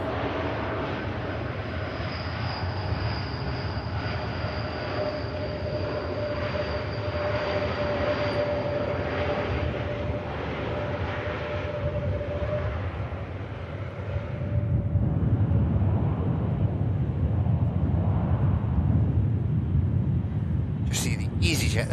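A heavy jet departs Manchester Airport, its broad engine roar steady and loud before swelling into a deeper, stronger rumble as it climbs away.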